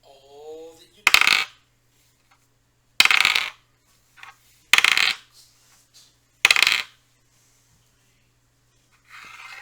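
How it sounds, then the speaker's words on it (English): Dice clattering on a table during a Dungeons and Dragons session, several separate sharp rattling bursts spaced a second or two apart, close and loud against a quiet background with no talking. "I don't like the dice rolling I'm hearing."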